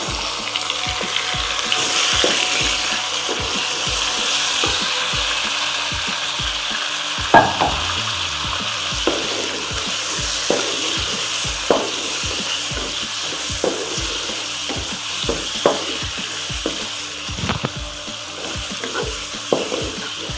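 Chicken pieces fry in a pot with browned onions, a loud steady sizzle broken by frequent scraping, clacking stirs, with no voices.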